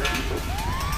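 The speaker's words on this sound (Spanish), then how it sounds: "Sebi, tienes una ambulancia, tío." A short burst of a wailing video-game ambulance siren with a rising tone over a steady engine-like hum, continuous and fairly loud, during a racing game.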